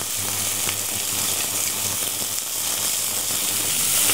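Loud, constant sizzling of chicken searing in a hot pan, a dense crackling hiss that never lets up, close to the listener.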